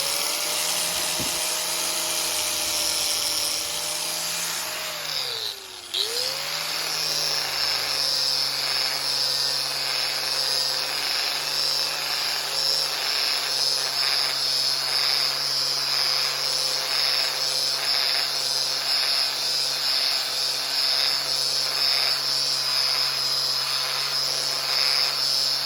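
Power buffing tool running on bare aluminum 4x4 racing control arms, a loud steady high-pitched whine throughout with a brief dip and recovery in tone early on.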